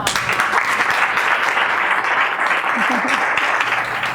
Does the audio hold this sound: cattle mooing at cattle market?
no